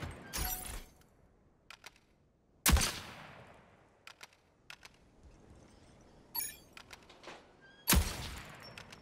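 Sharp gunshots in a Rogue Company firefight against turrets, scattered single cracks and short bursts with quiet gaps between them, some ringing briefly, no talk.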